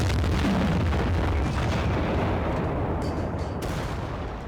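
Tank cannon fire in the World of Tanks video game, with a loud boomy blast and its rumbling tail filling the whole span with no talk over it.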